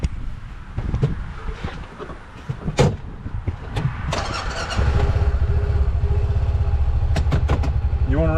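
A vehicle engine cranks and starts, then settles into a steady low idle rumble that carries on to the end, preceded by door clunks and handling noises and with brief voices nearby.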